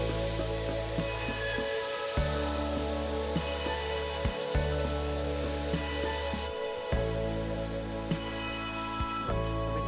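A Dyson Airwrap hair styler runs steadily on a high setting, blowing hot air with a continuous whooshing hiss and an electric motor hum that drops out briefly a few times, close to the listener with no talking.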